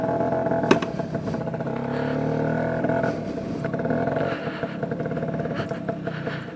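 A 2008 Genuine Stella scooter with an aging Cetos exhaust, running steadily at close range with a loud, rough, droning engine note and occasional clattery bumps.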